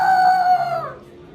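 A single loud, close rooster crow, a sustained tonal call that fades out toward the end.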